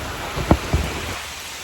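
Steady rain falls during a thunderstorm at a treehouse hotel in Sisaket, Thailand, as a loud, continuous hiss broken by two short, close thumps of thunder.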